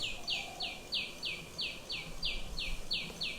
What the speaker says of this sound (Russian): The bird making that sound is a little tiny sunbird.